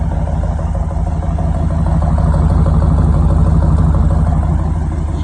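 A 1989 Camaro engine idling on a cold start in cold weather, with a continuous low rumble, a faint whine running through it and an occasional slight misfire, fairly loud and close throughout.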